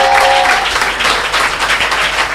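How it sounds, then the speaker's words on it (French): A church congregation applauds in dense, steady clapping that fills the room evenly for a couple of seconds, with a faint tone at the very start. "On acclame la parole du Seigneur."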